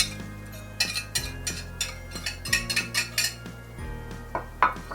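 Shredded cheddar cheese stirred into a roux and milk sauce for oven-baked mac and cheese, a utensil clinking and scraping against the pot in a quick series of knocks, close and fairly quiet.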